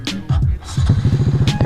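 A Honda Grom 180 with a big bore kit revs hard as it pops a wheelie, a close, loud, rapidly pulsing small-engine exhaust note with a brief dip before climbing again.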